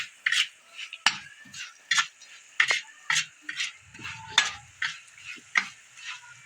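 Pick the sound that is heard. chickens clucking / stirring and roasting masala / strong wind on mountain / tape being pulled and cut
stirring and roasting masala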